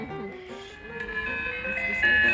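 A Scooby-Doo Mystery Machine ice cream truck plays its jingle outdoors in a neighborhood, a tinny looping melody carrying from nearby while people chatter over it.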